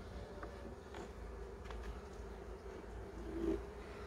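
Honeybees buzz around an open hive colony, likely during treatment of a weakened colony, a faint continuous drone with individual bees flying close past now and then.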